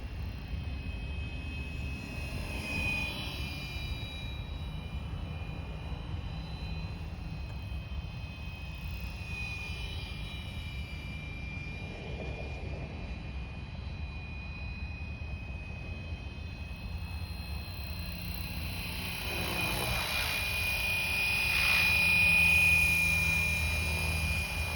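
Flywing FW450L RC helicopter flying outdoors, a continuous rotor whir and motor whine running steadily throughout, swelling louder toward the end as it comes nearer.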